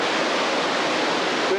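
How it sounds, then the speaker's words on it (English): Water pours steadily through the rotating gates of an old mill's turbine onto the blades, a dense, continuous rushing roar heard close and loud without a break. "They drop the water in against the turbine blade."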